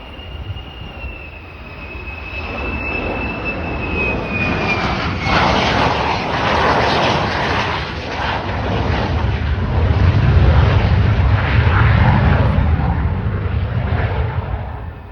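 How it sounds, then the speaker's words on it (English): F-35 Lightning fighter jet lining up on the runway at RAF Lakenheath, a loud, sustained engine roar and whine that swells steadily, with a thin high tone fading early on. "First F-35 lining up with the runway."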